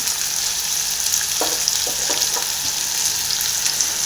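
A medium-sized onion, finely chopped, sizzles in hot oil in a pan for a chickpea stir-fry, a steady crackling hiss broken by a few soft scraping stirs, close and alone.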